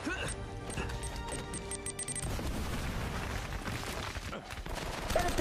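A grenade blast and rapid gunfire ring out in the video game Uncharted: Drake's Fortune, a dense loud barrage of shots followed by a sustained rumbling roar.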